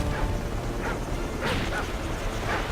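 Enemy attack dogs in the Call of Duty MW3 co-op survival mode on the Offshore map, carrying explosives, give several short barks and yips over steady game background noise.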